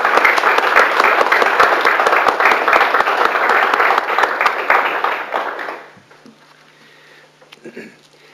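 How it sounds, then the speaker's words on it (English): An audience claps loudly and continuously for about six seconds, then the applause fades abruptly into near silence with a few small room noises. "we really need to give a good round of applause to Henry Morgan and Arlene Marie."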